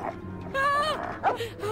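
A dog in a Lego Harry Potter video game gives a short whimpering, yipping bark, a brief tonal cry rising and falling over low background game music.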